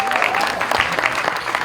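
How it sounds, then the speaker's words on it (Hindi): An audience at a film event breaks into loud, dense applause, a steady wash of many hands clapping with some crowd noise mixed in. "भूषण जी, इसके लिए एक बार जोरदार ताली होनी चाहिए"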